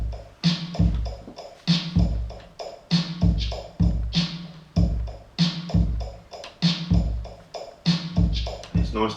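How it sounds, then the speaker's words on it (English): A lofi hip hop drum beat plays alone and close, with a punchy kick, snappy snare and hi-hats repeating in a steady, looping groove. "this is a drum beat I came up with, it sounds like this"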